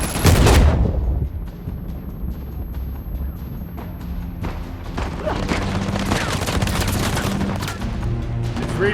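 Dense gunfire from the action game Uncharted: The Lost Legacy, starting with a heavy close blast and followed by continuous rapid shots and bursts with crashing impacts, loud and sustained throughout.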